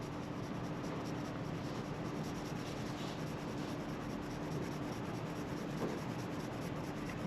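A sharp pencil shading steadily on paper while building a gray value scale, producing a continuous soft scratchy rubbing, quiet and close with no voice.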